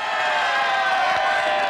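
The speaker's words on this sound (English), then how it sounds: "The Italy supporters cheer in the stands." Italy supporters in a stadium roar after a soccer goal, a loud, continuous wash of crowd cheering with no pauses.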